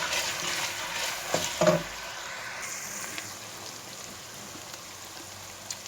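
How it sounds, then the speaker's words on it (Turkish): Onions sautéing with meat in a pan give a soft steady sizzle, fairly quiet, with a few brief stirring knocks near the start before the frying settles into a gentle hiss. "Şimdi soğanını ilave ediyoruz. Ve soğanını kavuruyoruz."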